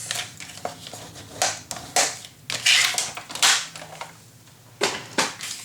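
Paper being folded and creased by hand while assembling a nautical-themed mini album, giving a run of crisp crinkling and rustling bursts at close range, with short pauses between strokes.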